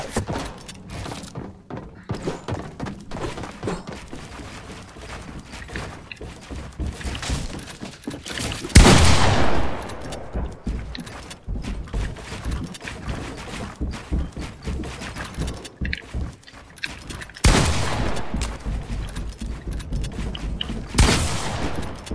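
Fortnite battle with repeated gunshots and bursts of fire, mostly moderate in level with a few louder blasts and thuds, scattered irregularly through a long stretch of game noise.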